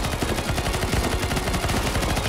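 Rapid, dense gunfire in a zombie shooter video game, loud and continuous automatic bursts with overlapping shots filling the short stretch, no voices over it.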